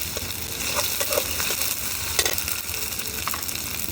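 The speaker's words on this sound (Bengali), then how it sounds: "আমার পেঁয়াজটা প্রায় ভাজা হয়ে গেছে," Onion and ginger paste sizzle and fry in a pan at an outdoor village cooking spot while being stirred, a dense continuous crackle with scraping stir strokes, close and steady.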